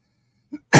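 A single sharp cough near the end from a person reading a novel aloud, preceded by a faint, brief throat sound; close and otherwise quiet.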